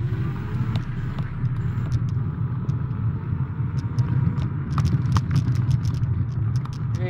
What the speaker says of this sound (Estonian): Auto tuleb.